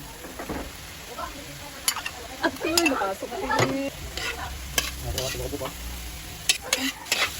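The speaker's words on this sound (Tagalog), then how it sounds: "So haluin lang natin" Hotdogs and ground pork stirred through simmering sauce in a home kitchen pot, with close scraping and clinking strokes at an irregular rhythm over a soft bubbling sizzle, with no one talking.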